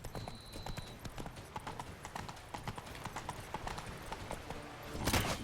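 Horse galloping in the video game The Witcher 3, a quick, steady clip-clop of hooves running throughout, with a louder burst of noise near the end.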